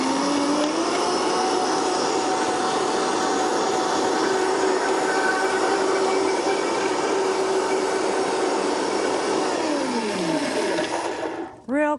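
A loud kitchen blender revs up and runs steadily while blending nut mayonnaise for a cooking show, a sustained whining roar that holds for about ten seconds before winding down with a brief final burst.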